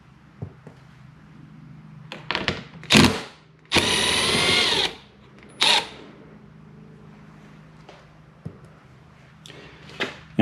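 Power tool bursts remove the side-mirror bolts on a Hyundai Genesis, with one sustained whirring run of about a second in the middle and shorter, sharp tool bursts and clicks around it in a quiet garage.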